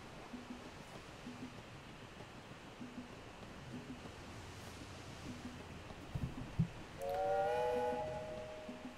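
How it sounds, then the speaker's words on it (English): Quiet ambient soundscape in the Tropico 6 city-building game with soft repeating chimes, a couple of brief knocks, then a single chord-like train whistle near the end lasting about a second. "Definitely sounds a lot more like a train whistle."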